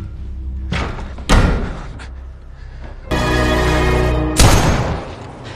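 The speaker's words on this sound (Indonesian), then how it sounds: "Mendengar suara tembakan" Sharp gunshots from a handgun, a few loud percussive blasts with short decays, separated by quieter stretches with a sustained rumbling texture in between.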